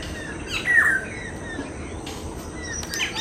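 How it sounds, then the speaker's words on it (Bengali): Birds call beside a lake at a riverside tourist lodge in Diamond Harbour. A few sharp squawks and chirps stand out at mid distance against a quiet, steady outdoor background, with no talking. "এই শান্ত পরিবেশে পাখিদের কলতান শুনতে বেশ ভালো লাগছে।"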